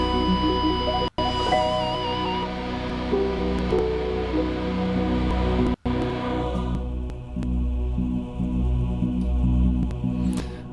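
Sustained chords and notes from a soft Spitfire piano sample play softly for several seconds, layered with other held tones, then thin out toward the end; no voices.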